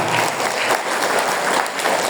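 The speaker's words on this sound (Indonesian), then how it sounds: "minimal tepuk tangan yang paling meriah untuk panitia" A crowd breaks into loud, sustained applause, dense clapping that stays steady throughout.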